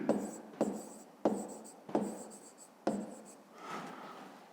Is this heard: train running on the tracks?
no